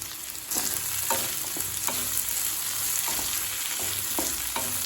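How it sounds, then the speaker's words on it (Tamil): Shallots and green chillies sauté in a pan for onion rice, giving a continuous close sizzle with a spoon scraping and stirring at regular intervals, and nobody speaking. "சின்ன வெங்காயம் நல்லா வதங்குற வரைக்கும் வெயிட் பண்ணலாங்க"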